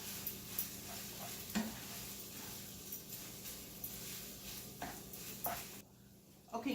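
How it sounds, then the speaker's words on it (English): Hamburger stroganoff simmering on low heat in a pan, a quiet continuous sizzle and bubbling hiss with occasional faint clinks, close by, nearly alone with no clear talk over it. "now you need to boil this, or just a low simmer, actually, for about 10 minutes"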